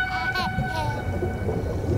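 Whale calls layered into a soundscape built in Audacity, drawn-out tonal moans and squeals over a steady watery rumble, loud and continuous throughout.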